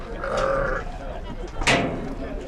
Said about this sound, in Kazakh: Охо, қошқырлардың зорлары бияқта екен